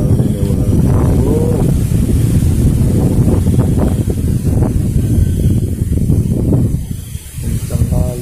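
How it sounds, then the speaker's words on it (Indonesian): Strong gusting wind in a storm, roaring and buffeting against the microphone in loud surges that ease briefly near the end, with someone talking underneath. "Besar kali anginnya."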